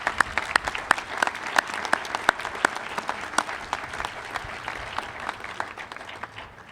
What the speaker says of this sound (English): A round of applause for these great folks.